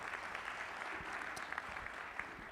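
An audience at a dental and medical conference talk gives a round of applause, an even, continuous patter of many hands heard faintly at a distance, with no speech over it.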